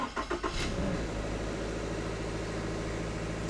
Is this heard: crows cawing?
no